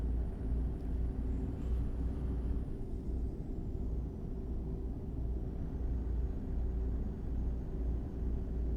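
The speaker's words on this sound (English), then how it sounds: "There's another plane taking off." A plane takes off in the American Truck Simulator game, a steady low engine rumble with a faint high whine sustained loudly throughout, no talk.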